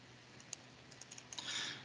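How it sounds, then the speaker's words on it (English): Several light computer mouse clicks, faint and close, fall in a quick irregular sequence against a quiet background with no talk. "so we click security."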